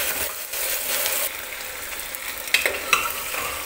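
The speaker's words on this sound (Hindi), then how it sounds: "अब इसमें डालेंगे लहसुन अदरक का पेस्ट 1 चम्मच और इसको भी चलाते हुए थोड़ी देर भूंज लेंगे" Garlic-ginger paste fries with browned goat meat for a milk korma while a spoon keeps stirring, a steady close sizzle with scraping strokes and a couple of sharp metallic clinks near the end.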